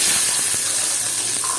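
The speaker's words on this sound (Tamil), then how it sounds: "எடுத்து வச்சிருக்கிற சின்ன வெங்காயத்தை போட்டு வதக்கிடலாம்." Small onions sizzling in a tablespoon of oil in a pan, cooked for a village-style mutton kuzhambu: a steady, close, hissing fry with no voices.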